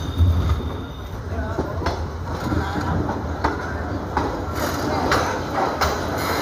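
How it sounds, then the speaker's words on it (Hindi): The Upasana Express pulls into Sultanpur Junction with a steady low rumble and periodic clacks of wheels over rail joints. Muffled voices sound in the background. "हमारी उपासना एक्सप्रेस पहुंच चुकी है सुल्तानपुर जंक्शन।"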